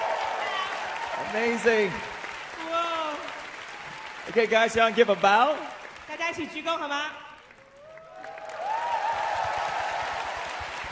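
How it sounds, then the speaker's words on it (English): Audience applause for the cast of a church Easter drama, swelling between stretches of loud amplified talk and cheering from a host on stage, then continuing as a steady wash of clapping under the voice. "Let's give Bernard a big round of applause"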